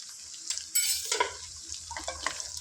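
Pieces of country chicken fry gently in a pan with a soft, fairly quiet sizzle, while a spoon slowly stirs and scrapes through them in a few light strokes.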